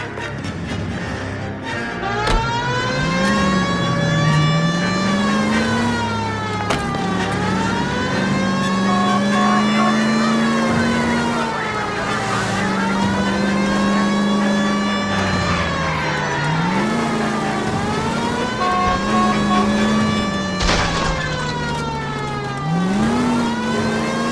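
A 1940s-era car in L.A. Noire driving hard, its engine revving up and down in repeated rising and falling sweeps, loud and close throughout, with a siren-like whine and no talking.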